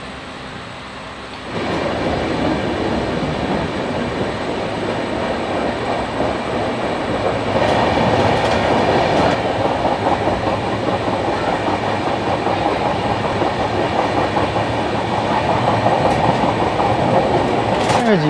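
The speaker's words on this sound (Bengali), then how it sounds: "কামারকুণ্ডু স্টেশন থেকে আমাদের ট্রেন ছেড়ে দিল" The 13152 Jammu Tawi Express pulls out of Kamarkundu station with a loud, steady rolling rumble and rhythmic wheel clatter that swells after the first second and grows slightly heavier as the train gathers pace.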